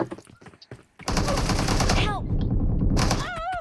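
Bursts of rapid automatic gunfire in a video game, loud and sustained over a couple of seconds after brief quieter sounds, then a short pause and another burst, with people talking excitedly over it.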